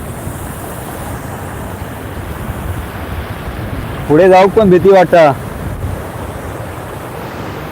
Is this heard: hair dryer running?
no